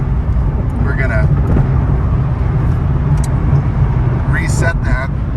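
A 2006 Corvette coasting on the road, with a steady low drone of tyre and engine noise and a voice speaking over it throughout.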